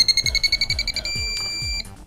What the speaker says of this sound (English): You can see here if I push to the right, it beeps, and it increases if I hold it